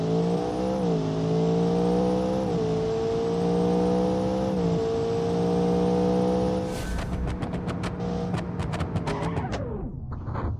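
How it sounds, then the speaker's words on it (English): Drag car launching with nitrous boost, engine revving hard through several rising gear pulls with a loud, continuous roar, then cutting off into a burst of crackling pops and sputters before fading. "I want to launch it a little bit harder and use the nitrous all the way."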